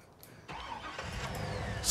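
A tractor engine cranks and fires up in Farming Simulator 19, rising from a quiet start into a steady running rumble that holds close and fairly loud to the end.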